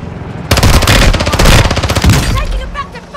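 Rapid automatic gunfire in Call of Duty played on PS5. After brief quiet, loud close machine-gun bursts hammer on for about two seconds, then fade into lighter scattered shots.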